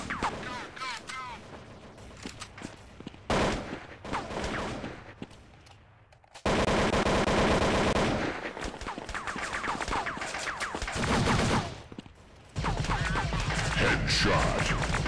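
Gunfire in the Android shooter Critical Strike comes in bursts of shots mixed with mechanical game effects and crashes, alternating between loud dense stretches and quieter gaps, with game voices heard at times.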